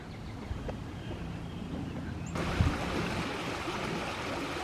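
Fast-moving creek water after rain rushes in a steady, hissing wash, growing fuller and louder partway through, with a soft thump near the middle.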